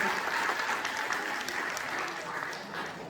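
Audience claps steadily throughout at a fifth-anniversary celebration of a Kannada-learning group, opening a yoga program; a continuous, fairly close wash of applause without breaks.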